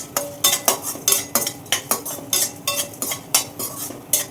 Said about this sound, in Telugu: ఫ్లేమ్ తగ్గించి లో ఫ్లేమ్లో పెట్టుకుని నిదానంగా వేయించుకోండి